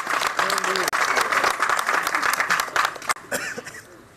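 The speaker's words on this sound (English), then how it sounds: "Give him a clap for that" An audience claps together in a dense spell of applause that thins toward the end, with a voice speaking over it.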